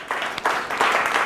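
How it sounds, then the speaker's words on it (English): An audience at a Creative Mornings talk in Palm Beach breaks into brief, moderately loud applause, a short patch of mixed clapping. "Give Sean a round of applause."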